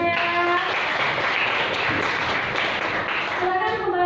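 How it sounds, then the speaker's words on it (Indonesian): A primary school class claps together in a classroom, a dense burst of applause lasting several seconds, with a voice speaking at the start and end. "Baik anak-anak, tepuk tangan dulu untuk semuanya."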